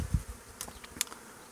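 Honey bees buzz in short bursts as a swarm is taken down from a tree branch, with a few sharp knocks and rustles close by.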